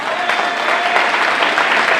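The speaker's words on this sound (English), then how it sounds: "You deserve the loudest round of applause." Loud, sustained applause from a seated crowd honoring parents at a school district awards ceremony, a continuous wash of clapping with faint voices mixed in.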